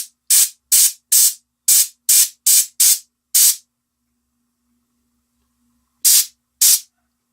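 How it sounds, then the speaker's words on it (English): Short, sharp hissing bursts of spray paint hit a miniature turtle model: about eight quick puffs in an uneven rhythm, a pause, then two more, each loud and close. "maybe we'll spray a little bit in the back in here"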